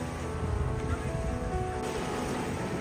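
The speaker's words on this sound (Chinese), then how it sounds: "这个快艇像是一个跑车。" A speedboat on a lake in the desert, its engine drone and rushing water heard steadily over wind noise on the microphone.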